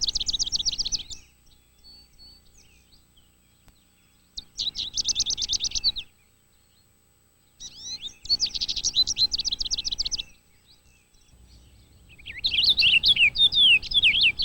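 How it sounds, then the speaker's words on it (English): Purple finches chirp at backyard feeders in four separate bouts of rapid, bright, twittering calls, with near silence between them. "These lovely birds are the purple finches, more rotund and deeper raspberry in color."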